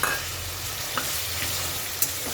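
Boiled chickpeas fry and sizzle steadily in a hot pan, with a few sharp scrapes and clinks as a spoon stirs them at intervals, close and continuous with no talking.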